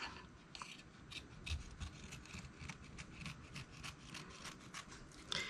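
Scissors trimming fabric close to the stitching for raw edge applique on stitched flowers and stems, giving soft repeated snipping and rubbing sounds at a steady rhythm, close and quiet, with no talk.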